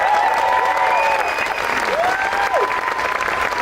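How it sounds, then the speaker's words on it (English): A large crowd applauds and cheers steadily for New Mexico Governor Michelle Lujan Grisham at a presidential event, loud continuous clapping with faint whistles and voices mixed in. "How about another round of applause for our Governor,"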